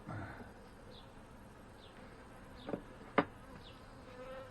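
Honey bees in a freshly opened backyard hive during a first inspection, a steady soft drone of buzzing with a few close passes of individual bees and a couple of sharp knocks near the end.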